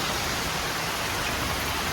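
Heavy monsoon rain pours down in a dense, unbroken hiss, loud and close, with no voices over the steady downpour.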